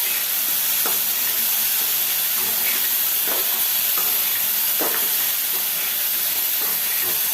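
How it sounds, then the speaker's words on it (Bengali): Ginger paste fries in a pan with a steady, close sizzle and hiss, broken by a few soft scraping stirs. "আদা দিয়ে এটা একটু ভাজতে হবে।"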